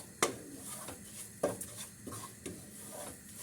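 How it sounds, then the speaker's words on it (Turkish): A spoon scrapes and taps in a pot while tarhana soup with cabbage is stirred and sautéed, giving a few soft, spaced knocks and rasps at close range. "Çorbamı birkaç dakika karıştıracağım. Yani kavuracağım."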